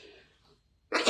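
A single sharp sneeze bursts out at the end after near silence, preceded by a faint breathy intake.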